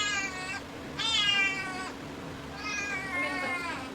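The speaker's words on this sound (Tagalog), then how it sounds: "Umiiyak na yung pusa ko" A cat meows three times, drawn-out, plaintive cries with pauses between them, close by and fairly loud over a faint steady hum.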